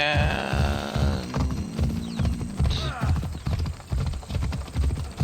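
Horse hooves in the video game Assassin's Creed Odyssey clip-clop in a quick, steady trot, loud and close, with a brief whinny near the start.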